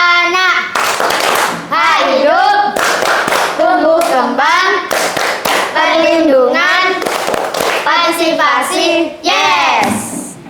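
Schoolchildren in an Indonesian classroom chant together in a loud rhythmic call-and-response, with sharp unison handclaps punctuating the chant.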